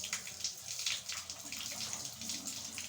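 Water pours steadily into a pot at home, a continuous soft splashing rush, fairly faint and close, with no speech over it.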